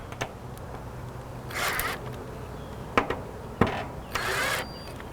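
A power tool drives a fastener to tighten down a leveled cleat during a Varden kit installation. Two short whirring bursts are separated by a few sharp knocks and clicks, close and fairly loud.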